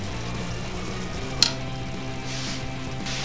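Shepherd's pie filling cooking down in a pan, a low steady simmer and sizzle with a single sharp clink of a utensil midway.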